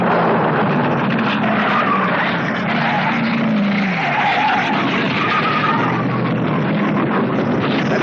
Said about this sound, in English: The front end of it has skittered all the way down to the run-out area.